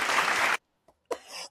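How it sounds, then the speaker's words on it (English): Audience applause at a talk-style event, a dense burst of clapping that stops abruptly after about half a second, followed by near silence and a brief breathy vocal sound. "everyone give them a round of applause"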